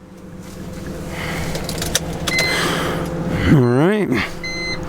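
A BMW X3 with a 3.0L engine cranks and starts. The starter whirs under a brief spoken phrase, then the engine catches with a rising rev near the end.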